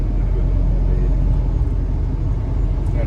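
A car cruising on a single-lane road behind slow lorries, a steady loud engine and tyre rumble from inside the vehicle, continuous without breaks.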